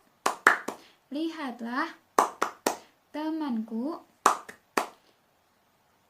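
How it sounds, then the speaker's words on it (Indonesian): Primary-school children in a third-grade classroom perform the tepuk hebat clapping chant: sharp rhythmic hand claps in small groups alternating with sung chant lines, close and clear. "Ya, tepuk hebat."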